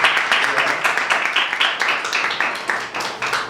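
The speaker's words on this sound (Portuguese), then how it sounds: "peço aqui umas palmas para o Menuzzi aqui" A small audience at a university talk claps in uneven, distinct bursts, a moderately loud, fairly close patter of individual hand claps that pulses irregularly throughout.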